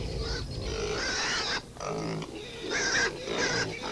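Pigs grunt and snuffle in an outdoor barnyard. The rough, close grunts come in uneven bursts over a constant noisy background.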